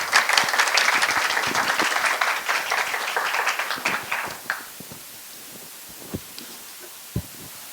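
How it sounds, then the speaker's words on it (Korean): An audience at a graduate school admissions briefing applauds a professor, loud dense clapping that thins out midway and fades into a few scattered claps over near silence. "상세한 설명과 답변해 주신 이승우 교수님께 큰 박수 부탁드리겠습니다."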